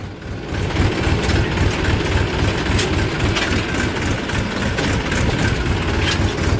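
A tractor engine runs steadily in top gear, a loud, continuous low rumble with no letup throughout.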